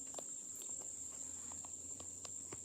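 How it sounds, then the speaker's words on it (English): Steady high insect droning, like cicadas, runs throughout, with a few faint ticks and rustles underneath. "you can hear the cicadas and stuff like that"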